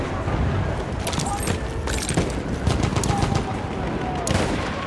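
Machine gun fire crackles in Battlefield 1 on a desert battlefield, with steady rattling bursts over dense background battle noise and a voice calling out over the top.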